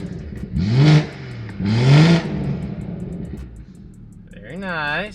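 A car with a newly installed Valvetronic exhaust, valves open, revs twice in quick succession with rising, throaty pulls, then gives a shorter third rev, all close and loud.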